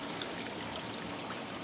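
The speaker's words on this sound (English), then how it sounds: "we were getting water in our trap hole, so we had to reduce the water flow." Water runs steadily into a trap hole in a garden irrigation setup, a continuous close rushing and trickling wash with no pauses.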